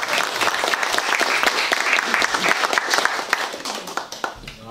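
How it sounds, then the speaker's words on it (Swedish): A small audience at a folk harp ensemble concert in Röstånga gives a brief, lively round of applause, dense and close clapping that continues steadily before tapering off at the end. "Ja, en liten applåd."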